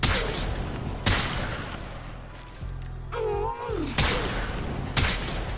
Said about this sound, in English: Yes, you can spam this sniper.